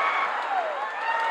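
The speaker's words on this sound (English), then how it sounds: "the crowd is going crazy here" A wrestling arena crowd roars and cheers during a tag-team match, a dense, loud wash of voices with no break in the short stretch.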